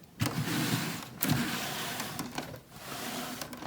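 A small LEGO Power Functions electric motor whirs as it drives the landing gear of a LEGO Star Wars Razor Crest model, a steady close buzzing with a couple of brief pauses and no voices.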